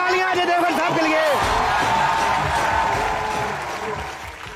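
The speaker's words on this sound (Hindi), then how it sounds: "जोरदार तालियां अजय देवगन साहब के लिए।" A television studio audience bursts into loud applause for Ajay Devgn on a comedy show, beginning over a voice and then continuing as dense clapping and crowd noise that fades slightly toward the end.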